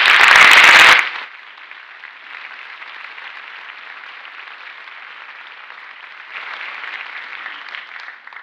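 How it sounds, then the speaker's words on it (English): Applause from an audience at a school honors awards ceremony, beginning with a loud burst and settling into sustained, even clapping that swells again near the end. "So a round of applause, please."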